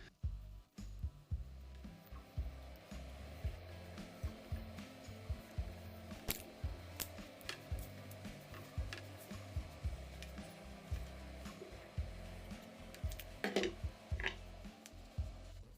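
Electrical insulating tape is wound around the top of a telescopic fishing rod tip, giving quiet, close crackles, soft ticks and a few sharper sticky rips at irregular intervals.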